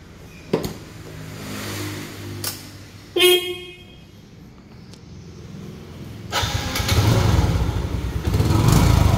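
Honda Jupiter V motorcycle at close range: an idling engine broken by a short horn-like toot, then a rising rev that swells louder toward the end.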